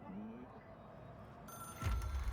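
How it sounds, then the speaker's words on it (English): A mysterious old phone, an object of power in the Control video game, rings in a steady tone under low background noise, then a louder, thicker burst of sound swells in near the end. "It is a phone."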